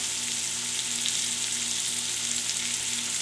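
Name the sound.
catfish fillets sizzling as they fry in a pan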